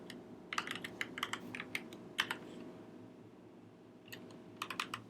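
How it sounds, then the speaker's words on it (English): Fingers type on a computer keyboard in a quiet room, with short bursts of crisp keystrokes separated by pauses, close and fairly soft. "let's just type it out."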